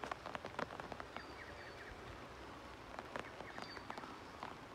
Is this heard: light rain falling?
yes